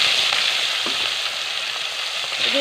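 Pieces of bhetki fish frying in hot oil in a wok make a loud, even hiss of sizzling that holds steady throughout, with no talking.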